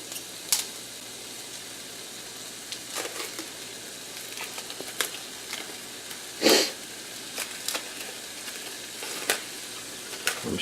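Ground beef sizzles and fries in a non-stick pan, a steady crackling hiss broken by sharp pops and the odd clack of stirring, close and with no voices.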